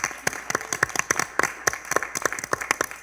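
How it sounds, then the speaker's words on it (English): Sparse applause from a small group at a board of education meeting honoring the Classified Employee of the Year, with distinct individual claps in an uneven rhythm, fairly close. "join me in a round of applause for our Classified Employee of the Year"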